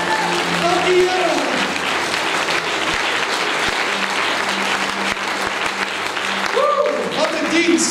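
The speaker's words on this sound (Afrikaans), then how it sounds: "Oh, kom ons juig bietjie, dankie Here." A church congregation breaks into loud, sustained applause and cheering during a worship service, dense clapping filling the room with voices calling out over it.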